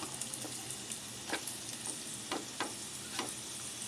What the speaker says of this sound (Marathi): यात आपण 1 चमचा तेल सोडत आहोत आणि आता हे मॅरिनेट केलेलं लिव्हर सोडणार आहोत